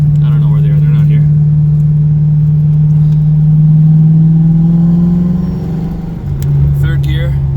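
A 1992 Ford Mustang GT with SVE headers, SVE X-pipe and Mac Pro dumps rumbles steadily while driving, its low exhaust drone loud and close, rising slightly as it pulls and then easing off briefly before settling again.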